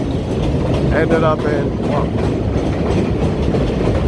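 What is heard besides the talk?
New York subway train passing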